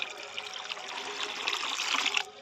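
Water trickles steadily into soil as it is slowly turned to mud for lotus cultivation, a continuous soft close-up flow that stays alone with no voices.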